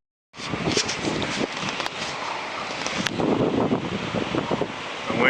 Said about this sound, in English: The wind's blowing about 25 knots.